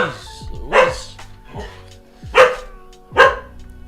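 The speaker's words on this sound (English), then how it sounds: "My dog's losing her mind here." A dog barks loudly nearby in three or four sharp, spaced outbursts, with whining and yips between them indoors.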